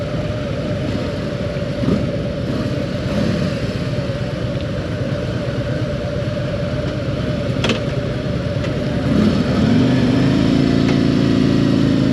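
Harley-Davidson Fat Boy motorcycle being ridden, a loud, steady low engine rumble with wind noise throughout, rising slightly in pitch near the end as it accelerates.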